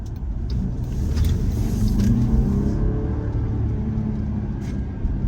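A steady engine drone with a low rumble from a Jeep Grand Cherokee 4xe's 2-liter turbo four-cylinder in sport mode, rising slightly as it works harder, heard from inside the vehicle at moderate loudness without talk.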